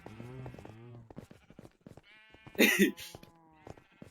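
A sheep bleats in a video game sheep pit on a server: one loud, wavering bleat cutting through amid soft voices talking, with tonal game sounds around it.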